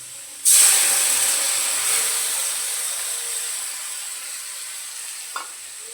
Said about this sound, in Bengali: আলু ভাজা হয়ে গেছে, এরপর এর মধ্যে দিয়ে দেবো বেটে রাখা মশলাটা